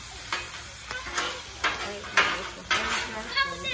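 Rice sizzles with butter on a hibachi griddle as a spatula stirs and scrapes it, making rhythmic metallic scrapes and clinks about every half second over a constant frying hiss.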